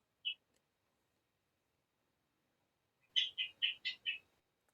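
A pet talking bird chirps: one short isolated chirp, a pause, then a quick run of five bright, close chirps, in an otherwise quiet room.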